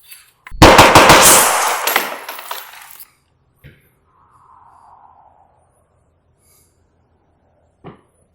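Rifle fire from a suppressed Knights Armament rifle during a gas comparison test, a loud rapid burst of shots followed by a few sharp single clicks and thuds, with no talking.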